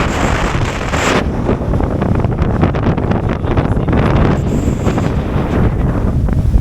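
Strong wind gusting across a hillside on an uphill walk, roaring steadily into the microphone with heavy low rumble and buffeting, loud and continuous throughout with no voices.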